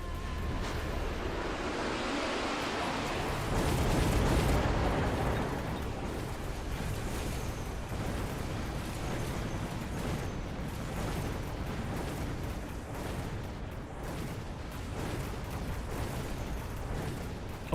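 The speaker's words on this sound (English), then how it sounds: "Too many overlords shooting all at once, with addition of the overlord artillery" Heavy artillery and cannon fire from overlord units pounds a war factory in the Mechabellum strategy game, a dense barrage of booming impacts that swells around the fourth second, then settles into a continuous rumble of battle with no voices.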